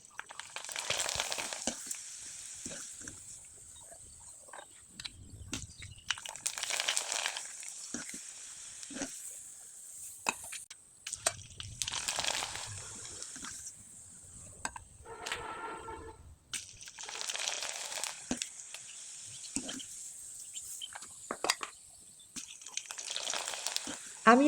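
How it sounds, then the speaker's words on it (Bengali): Rice-flour pitha dropped into hot oil and frying, with repeated swelling bursts of bubbling sizzle separated by quieter gaps, plus occasional handling clatter nearby. "আমি কয়েকটা পিঠা আপনাদের ভেজে দেখিয়ে দিচ্ছি।"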